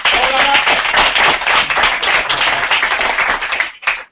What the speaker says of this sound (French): il faut applaudir Bernard